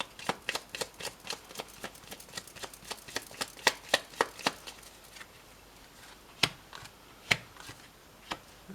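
Tarot cards being shuffled by hand, a quick run of crisp close slaps and riffles that speeds along, then thins to a few sparse, sharp taps.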